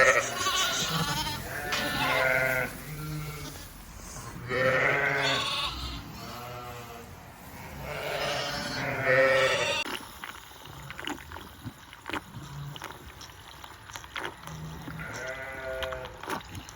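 Ewes in a shed bleat loudly in repeated, overlapping calls for the first ten seconds, then fall quieter, leaving faint scattered bleats and rustling.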